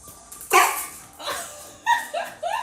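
An indoor pet dog barks a few times in short, close, sharp bursts with small yips between them, loud and clear with almost no talk over it.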